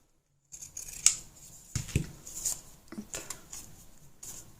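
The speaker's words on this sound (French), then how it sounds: "On va couper l'excédent," Scissors snipping off excess lace and fabric scraps during a craft embellishment project, a few close, crisp cuts spaced irregularly with quiet handling between, no talking.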